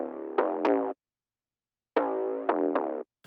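Layer of 808 bass with chorus and the low end removed, a buzzy mid-range tone played in two short phrases of three pitch-stepping notes each, separated by a pause, alone with no talking.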